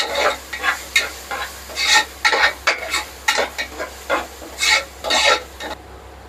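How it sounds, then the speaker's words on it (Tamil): Ginger garlic paste sizzles in a hot pan while a utensil scrapes and stirs in quick, rhythmic strokes, close and fairly loud, with no talking. "இஞ்சி பூண்டு பேஸ்ட்டு போட்டு ஒரு தாளிக்கணும்"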